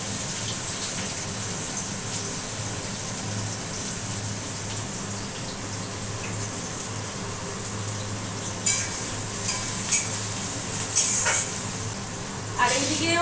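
Onion tempering sizzles in hot oil in a home kitchen, a steady crackling fry throughout with a few sharper spits and stirring clinks toward the end, no talk over it.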